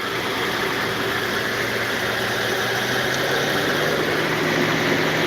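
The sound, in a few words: Mercedes ML500 W164 fan speeding up and slowing down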